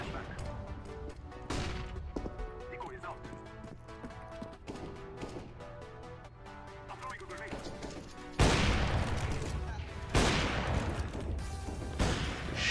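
Gunfire in the video game CS:GO, with scattered shots and bursts through the clip and louder sustained firing near the end, under a voice talking.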